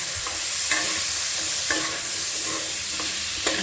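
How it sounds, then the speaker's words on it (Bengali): Steady sizzling of spices and prawns frying in a pan, with a few brief scraping clicks of a spatula stirring at irregular intervals. "এগুলো সব মশলার সঙ্গে ভেজে নিলাম"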